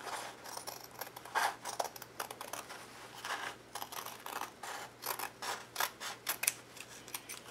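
Scissors snip repeatedly through Mod Podge–coated paper in a quick, uneven series of close, crisp cuts against a quiet background.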